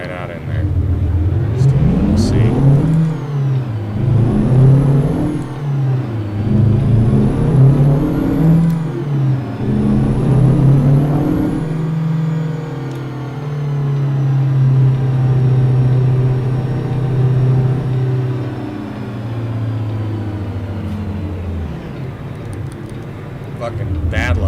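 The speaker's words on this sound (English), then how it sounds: "You just hear engine noise. Fucking trucks." A cab-over truck engine in American Truck Simulator whirs and revs up through rising and falling gears, loud and close, with someone talking over it.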